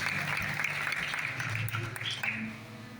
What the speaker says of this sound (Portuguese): eu te peço um forte aplauso ao Senhor nessa noite